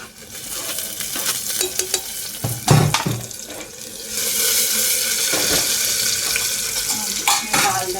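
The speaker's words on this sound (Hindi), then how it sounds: "प्याज पक चुका है। अब हम डालते हैं इसमें टमाटर।" Tomatoes go into a pan of cooked onions and fry with a close sizzle. Scraping stir strokes and clatter are mixed in, and the frying grows louder and steadier toward the end.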